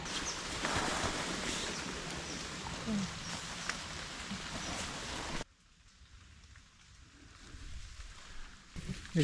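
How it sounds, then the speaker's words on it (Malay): Steady rain pours during a mountain hike on Gunung Bujang in Melaka, a loud, dense hiss that drops abruptly to a softer, thinner patter partway through. "hari ni dah mula hujan"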